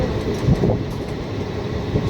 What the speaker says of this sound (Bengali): দরজার ভিতরেই আছি দাঁড়িয়ে দেখছি ট্রেনটা চলছে।